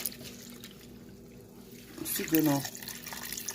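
Water splashing and running in a basin as dried bitter leaf is washed by hand, faint swishing that swells into louder sloshing midway, with a voice talking over it.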